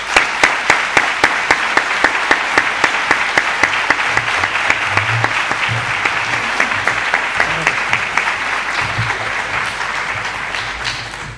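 A studio audience gives a strong round of applause to welcome guest Miguel Blanco on a talk show: steady, loud, evenly paced clapping that holds for about eleven seconds before easing slightly.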